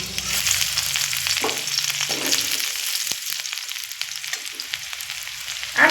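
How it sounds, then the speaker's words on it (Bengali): Dry red chillies frying in hot oil as a tempering, a close, busy crackle and sizzle with short spatters and a few stirring knocks, and no voice. "আর ওই একই তেলের মধ্যে ফোড়নে দেব শুকনো লঙ্কা ফোড়নটা একটু ভাজা হতে দেব"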